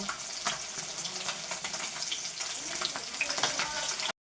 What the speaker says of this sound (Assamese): এইফালে মই মাছখিনি ভাজি আছোঁ